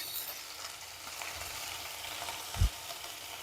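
Green chilies frying in hot oil for a homemade Tamil lunch dish, a steady close sizzle and crackle that runs throughout, with one brief low thump near the end.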